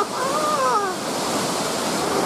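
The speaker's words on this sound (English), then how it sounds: "at least you guys get to see what this waterfall looks like." A waterfall on a trail in Washington State roars as a steady, broad rush of falling water, close and continuous, with a faint voice briefly heard over it.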